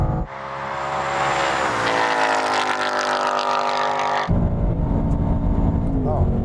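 A Ford Mustang V8 and a BMW M2 Competition in a drag race: close, loud engine roar that climbs steadily in pitch, then cuts off abruptly as a gear change breaks the note before revving on.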